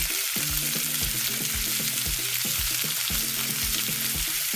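Fresh mixed vegetables are stirred into a curry coconut corn soup, giving a steady sizzle with repeated rhythmic scraping and stirring knocks close by.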